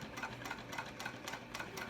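A sewing machine back stitches over a strap while a wristlet clutch is sewn, its needle running in a steady, rapid rhythm of close, even stitching bursts.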